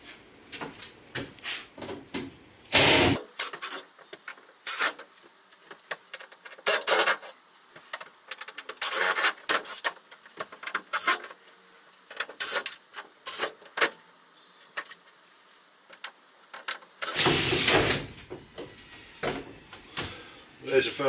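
Screws come out and a side panel is worked free inside a van under conversion, with bursts of scraping, rubbing and clunking against the metal body, close by and uneven.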